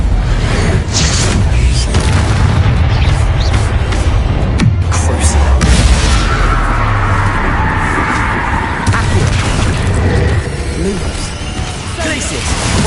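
Spell blasts from Bombarda and Confringo in Hogwarts Legacy burst and whoosh amid constant game combat noise, loud and continuous with crashes and rumbles layered over one another.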